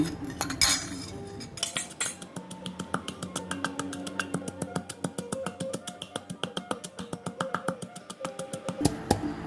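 Rapid steady pounding of chili, lemongrass and salt in a mortar, a long run of sharp hard knocks in an even quick rhythm, close and loud, with a few clinks at the start and end.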